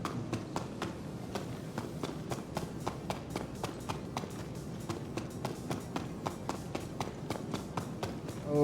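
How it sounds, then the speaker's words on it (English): Scuffling footsteps in Star Citizen tap out at an even walking pace, close and fairly quiet, with light scraping between steps and no talk. "Footsteps sounds like it's scuffled feet."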